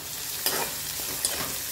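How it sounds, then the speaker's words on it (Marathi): Chopped onion sizzling in hot tempering oil, a steady close crackle and hiss with two brief scraping stirs of a spoon through the pan. "हे बघा फोडणी किती मस्त फर्स्ट क्लास झालेली आहे"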